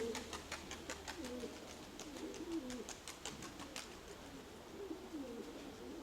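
Pigeons coo in soft, low, repeated phrases, with faint higher chirps of other birds scattered through a steady outdoor background.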